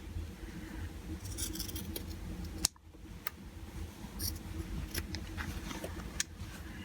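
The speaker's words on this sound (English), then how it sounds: "I think I'm just going to snip a little bit away from here" Scissors snip away excess fabric from a sewn bowl cozy in a quiet room, giving a few crisp, close cuts with one sharp louder snip midway and small clicks and rustles between them.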